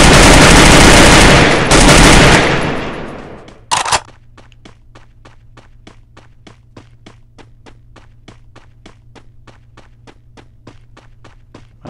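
Gunfire in the video game Free Fire: a loud, dense burst of shooting for about four seconds, then a steady run of evenly spaced light taps like footsteps over a low hum, with no talking.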